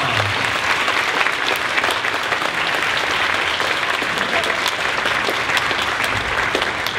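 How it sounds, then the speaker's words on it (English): A community college commencement crowd applauds steadily, a full, sustained roar of many clapping hands filling the hall, with faint voices mixed underneath. "let's give them a round of applause"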